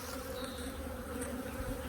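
Honey bees buzz in a dense, steady drone around beehives stacked with supers, a close, continuous hum with no talk over it.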